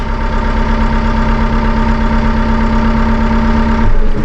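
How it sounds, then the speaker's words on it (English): A Massey Ferguson 2M.60 compact utility tractor with a 60.3 hp engine idles steadily while its loader is raised, a constant loud droning hum with a fixed tone and a slight change near the end. "We just pull the lever back here. Idle speed loader performance."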